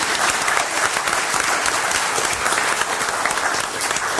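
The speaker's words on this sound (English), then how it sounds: "Now we can give the round of applause." Round of applause from the audience at a city commission meeting in Boynton Beach, a steady, dense clapping that stays at an even level throughout with no voices rising above it.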